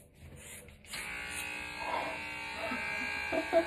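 Electric hair clippers buzz steadily while a head is shaved, a close, continuous hum with a brief dip near the start and small shifts in pitch as the blades move through hair, with faint voices in the background.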